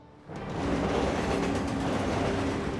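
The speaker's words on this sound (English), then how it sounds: "Next thing you know, the train's coming along." A train roars past close by, a broad steady rush of rail noise swelling in after a quiet start and holding loud.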